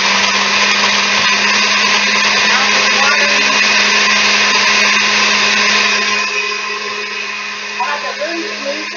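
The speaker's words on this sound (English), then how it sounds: "Blend it up." A blender crushes two big handfuls of ice into a Shakeology shake, giving a loud, steady grinding whir that runs unbroken for several seconds and then eases slightly toward the end.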